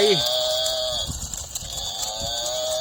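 A water buffalo hauling a cart on a road gives a low, drawn-out lowing call at the start, followed by a steady background hum and scattered soft knocks.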